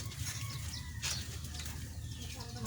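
Pigeons kept outdoors in the Philippines, soft cooing and fluttering mixed with a brief burst of wing flaps, heard over steady background noise.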